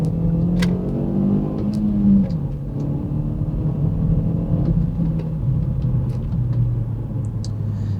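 A 2019 Hyundai Veloster R Spec hot hatch driving on a road in Cary, North Carolina, its steady engine drone rising and falling in pitch as it runs through the gears, with tire and road rumble underneath.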